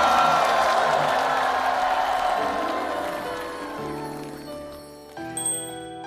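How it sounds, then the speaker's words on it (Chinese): A stage audience applauds and cheers as guests are welcomed on. The crowd noise is steady at first, then fades gradually, and a brief musical sting comes in near the end. "掌声欢迎张嘉佳、洪昱畅、周也"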